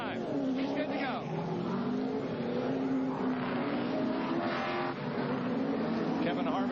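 NASCAR race cars at the 2003 Daytona 500 leave pit road in traffic, a steady loud engine roar with rising and falling revs throughout, under continuous talk.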